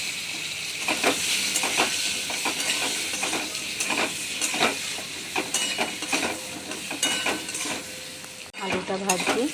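Potatoes frying in butter in a pan give a continuous close sizzle, with frequent scraping stirs and occasional clinks of a utensil against the pan; no voices.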